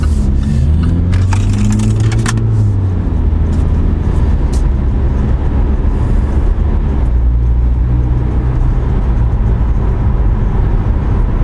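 A 180-horsepower Jaguar XE sedan with four-wheel drive drives along, heard from inside as a steady, loud road and engine rumble, with faint talk near the start.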